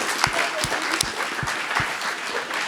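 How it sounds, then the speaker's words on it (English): Audience applause at a dementia men's group gathering, a moderate burst of clapping from a small crowd with a few sharper individual claps standing out. "it's Barry, could you give Barry a round of applause?"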